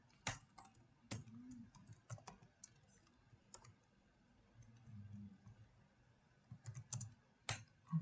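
Computer keyboard typing program code in a programming practice session: bursts of quick, close key clicks with pauses between, no talk during the typing.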